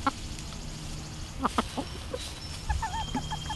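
Chickens cluck in short scattered bursts over a steady outdoor background hum, the calls faint and a little distant.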